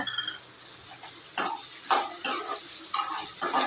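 Two small sliced onions frying and being stirred in a pan for tomato rice, a soft steady sizzle with repeated scraping bursts of the spoon against the metal.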